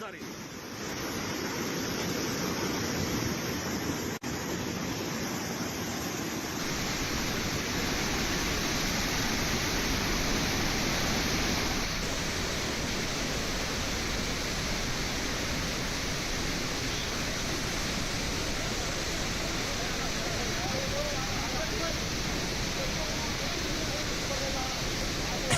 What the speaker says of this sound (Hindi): ये डैम बाढ़ के पानी से ओवरफ्लो हो रहा है।